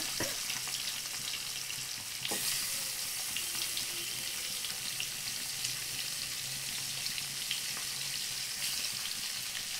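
Eggs frying in hot oil give a steady, fairly faint crackling sizzle that runs the whole time, with a few sharper pops and no voices.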